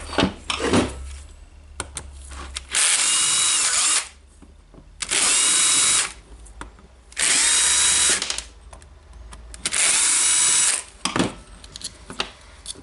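A power tool whirs steadily as it backs screws out of the aluminum housing of a Makita BJV180 jigsaw under restoration, with four sustained high-pitched bursts of about one to two seconds each, separated by short pauses and small clicks and handling noises.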